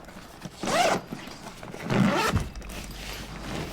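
Two distinct zipper pulls open the top section of a Dye Discovery gear bag 1.5T, each a close, rasping sweep about a second long with a short pause between them.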